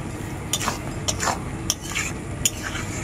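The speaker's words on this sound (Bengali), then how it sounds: "মিক্সড মশলাটা দেওয়ার পর খুব ভালো করে আমি নাড়াচাড়া করে নেব সবকিছু একসাথে" A spoon stirs mixed spices into a curry of small shrimp and stem greens, giving a few scraping, clinking strokes against the pot amid a faint background hiss.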